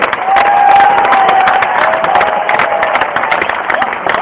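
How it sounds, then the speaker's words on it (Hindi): An audience at an association gathering of returning RCM representatives in Rajasthan bursts into steady, dense applause, a loud crowd of many hands clapping continuously with faint voices and cheers mixed in throughout. "आपकी तालियां आभार व्यक्त कर सकती हैं"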